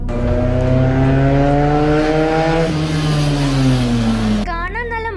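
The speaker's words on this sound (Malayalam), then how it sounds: "RPM കയറുമ്പോൾ ഒരു ഇൻലൈൻ 4 പോകുന്ന പോലുള്ള ആ ഒരു ശബ്ദം" Benelli 300 motorcycle engine revving hard with a smooth, high-pitched inline-four-like wail, loud and close, pitch climbing steadily before easing off and cutting to a brief idle warble at the end.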